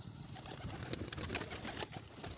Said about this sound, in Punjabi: ਦੇਖੋ ਜੀ ਇਹ ਕਬੂਤਰ ਜੀ